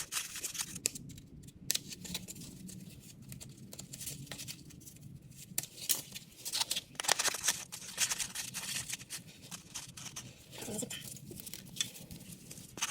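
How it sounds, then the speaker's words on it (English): Scissors snip repeatedly through foam, cutting notches to fit around a tractor fuel filter housing, a steady run of close, crisp cuts with soft rustling and occasional louder clusters. "Here I'm cutting out notches so that the fuel line can pass through."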